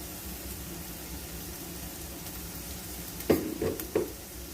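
Onions going into hot olive oil in a pan for a fried rice and lumpia meal, a steady background sizzle with a few louder bursts of crackling and stirring near the end.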